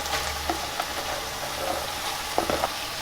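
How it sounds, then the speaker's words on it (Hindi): Potatoes fry in a pan with a steady, even sizzle as cabbage is added, with a few soft clinks and stirring knocks over the constant hiss. "अब हम पत्ता गोभी जो है वो ऐड कर देंगे।"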